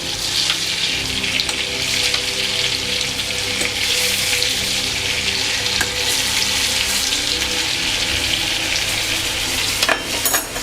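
Pineapple slices fry in a pan with a steady, bright hiss and crackle. Soft scraping and clacking come now and then as the pieces are turned over, and no one speaks.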